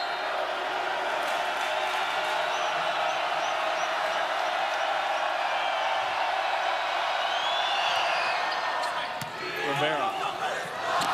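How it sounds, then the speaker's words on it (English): A volleyball arena crowd roars steadily through a men's college match between Hawaii and BYU, a loud sustained wash of cheering with whoops and a few sharp bangs and squeaks near the end. "crowd making a lot of noise right now"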